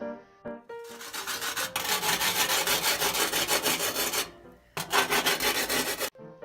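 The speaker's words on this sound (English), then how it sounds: "I began by scrubbing very lightly because I didn't want to scratch up my stove. Just a warning though, the sound is pretty horrendous." A wet pumice stone scrubs a stove surface in long, loud, harsh rasping strokes that run almost continuously, with a short pause before a final burst of grinding.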